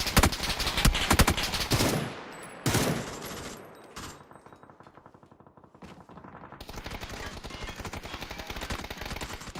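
Rapid video-game gunfire, dense bursts of automatic shots that come and go in loud volleys, with a brief lull before more shooting resumes.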